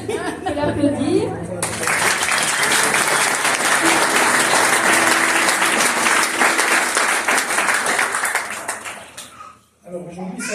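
A church congregation applauds after a baptism, with loud, sustained clapping from the whole room that carries on for about eight seconds before fading out, and a few voices are heard near the start.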